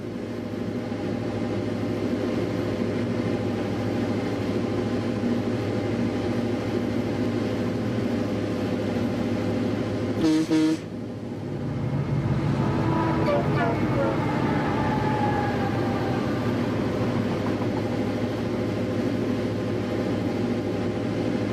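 The Northlandz Express model train rumbles steadily along its track, a continuous mechanical drone with a brief sharp break midway, followed by faint higher tonal sounds that may be its horn; a voice speaks over parts of it.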